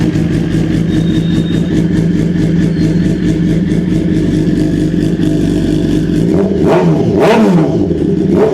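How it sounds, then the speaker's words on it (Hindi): A BMW S1000 RR superbike with an Akrapovic full-system short exhaust idles with a deep, steady burble, then the engine is blipped sharply twice, rising to a loud rasping rev and dropping back. "Akrapovic का full system short can exhaust, जिसकी आवाज़ बहुत प्यारी आवाज़ है"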